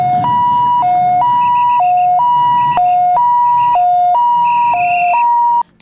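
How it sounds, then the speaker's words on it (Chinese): An ambulance siren sounds at a railway derailment rescue drill in Dajia, Taichung. It is loud and close, alternating between two tones in a regular hi-lo pattern, then cuts off abruptly at the end. "我们已经通报119，救护车很快就会来了"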